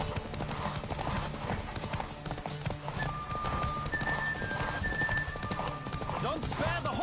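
Rapid rhythmic hoofbeats of a galloping horse in The Witcher 3 with brief whinnies, over a busy background of other sounds.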